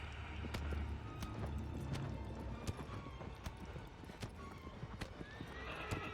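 A horse in the video game Shadow of the Colossus gallops with rhythmic hoofbeats and neighs, set against a low game ambience with a faint voice in the background.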